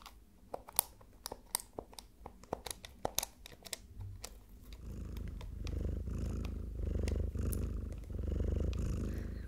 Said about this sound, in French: les ronrons d'un chat